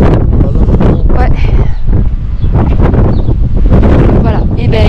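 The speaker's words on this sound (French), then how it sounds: "il y a encore énormément de vent" Strong wind off the ocean at Walvis Bay, Namibia, buffets the microphone in loud, rumbling gusts, with broken bursts of speech half-buried in the roar.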